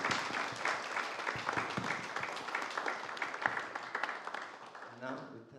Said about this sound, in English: I want us all to put our hands together to applaud them for all the work they've been doing the last 2 years